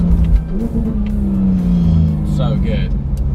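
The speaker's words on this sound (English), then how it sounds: "If there's anything going to wake you up in the morning, it's a Sharkworks exhaust." A car fitted with a Sharkworks exhaust rumbles and revs close by, a deep throaty engine note rising briefly, with a person speaking over it.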